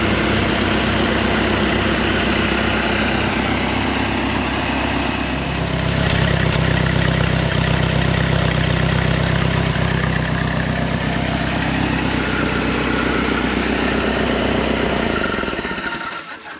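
An old stationary power unit engine of unknown make idles steadily and close by, its even low rumble filling the clip and firming up slightly partway through before cutting out at the very end.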